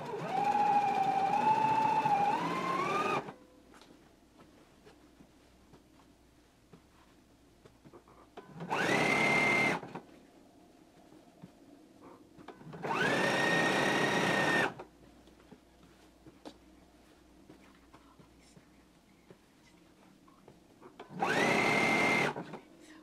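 A sewing machine stitches a pressed pant cuff hem in four separate whirring bursts of different lengths, with quiet pauses between them and no talking.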